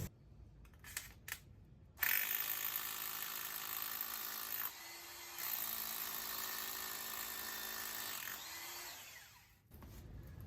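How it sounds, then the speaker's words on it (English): A power drill whines steadily in a few long runs, close and fairly quiet, its pitch dipping slightly as it bores through rigid foam insulation board. "We can drill the rest of our holes just like we did the first one."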